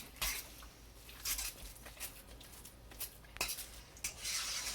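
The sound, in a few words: stirring zucchini fritter batter in a bowl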